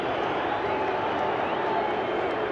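A packed stadium crowd at a State of Origin rugby league match between the Queensland Maroons and New South Wales Blues roars after a field goal, a dense, steady wall of cheering that holds loud and unbroken throughout.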